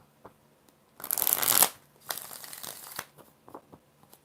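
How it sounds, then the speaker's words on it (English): Cards riffle in a dense papery burst, then a second shorter shuffle, followed by light taps and handling sounds close by. "4 shuffles for Xana"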